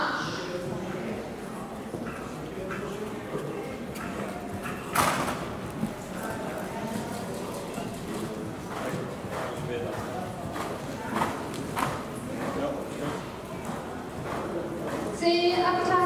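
Horse Filou de Paris cantering in a Class A dressage test at Neunkirchen-Furpach, soft rhythmic hoofbeats on arena footing under a voice calling out instructions, with occasional louder thuds.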